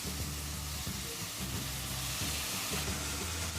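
Onion and tomato frying in a pan, a loud, close, continuous sizzle with rhythmic scraping as the pieces are stirred.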